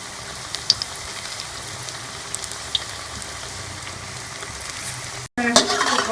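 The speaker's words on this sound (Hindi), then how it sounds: "पकौड़े फ्राई हो गए, इतना खूबसूरत गोल्डन का कलर आया" Carrot pakoras deep frying in hot oil, a steady close sizzle and crackle with scattered pops, briefly cutting out before a louder burst of bubbling resumes.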